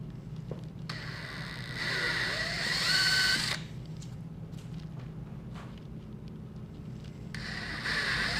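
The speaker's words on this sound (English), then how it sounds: "I'm going to take a 9/32 drill bit" A power drill with a 9/32 bit whirs in two bursts while enlarging holes, one around a second or two long and another starting later, with quieter handling noises between.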